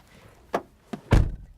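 A car door shuts with a solid thunk, preceded by two lighter clicks or taps, close by in a quiet parking lot outside a Walmart.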